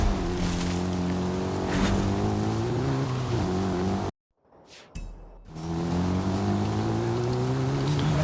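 Audi driven in the racing game Forza Horizon 5, a steady mid-pitched engine hum that drops out for about a second of near silence and then resumes at a moderate level.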